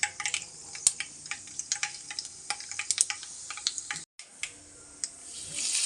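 Mustard seeds and cumin hitting hot oil in a pan, a dense run of sharp crackling pops and spits over a steady sizzle, with a brief silent gap before the sputtering resumes.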